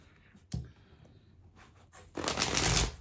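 A newly bought tarot deck being shuffled up close, a short riffle near the start and then a louder, longer burst of cards flapping together toward the end.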